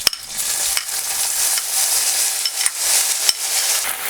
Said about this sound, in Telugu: ఈ నూనెలో ఏంటంటే ఇవి రొయ్యలు ఏపి తీసేయాలి.